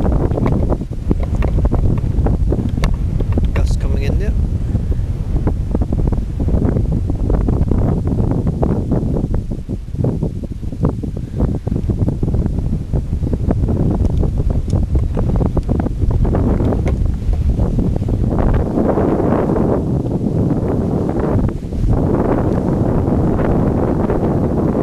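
Strong wind at a paragliding site in Walton, Fife buffets the microphone in heavy, roaring gusts that rise and fall throughout, with no voices.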